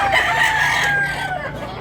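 A big rooster for sale at a poultry market in Tabunok, Cebu, gives one loud, sustained crow that fills the clip, with steady market bustle underneath.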